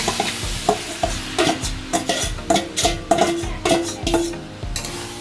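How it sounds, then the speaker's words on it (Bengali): Yogurt-marinated meat goes into a pot with onion and papaya, a loud close sizzle broken by a series of rhythmic stirring scrapes and knocks, with no talking. "এরপর আমি একদম দই সমেত মাখানো মাংসটা পুরো ঢেলে দিচ্ছি।"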